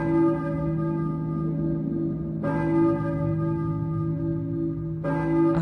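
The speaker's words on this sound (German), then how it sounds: "Ich höre eine Kirchenglocke" A church bell from the PlayStation game Silent Hill tolls three times at roughly even intervals, each strike ringing out loud with a long sustained hum that carries into the next, with no talking.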